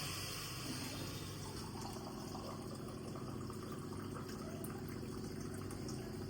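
Water poured from a glass into a cooking pot for Kerala beef biriyani with rice and whole spices, a steady filling rush over a continuous broadband wash that holds evenly for several seconds, with no voices.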